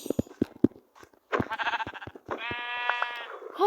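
A sheep bleats in a few wavering calls in Minecraft, preceded by scattered clicks and taps, near and fairly loud with no speech.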